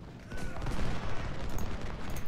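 Battle fire in the strategy video game Ultimate General, a continuous rumbling mass of distant musketry and booms rolling together without a break.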